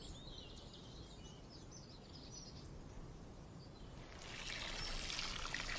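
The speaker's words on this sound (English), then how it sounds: "I will now water that in." Water poured from a can onto soil around newly planted bulbs in a garden, a soft steady trickle that swells into a heavier splashing pour near the end, with faint birdsong behind.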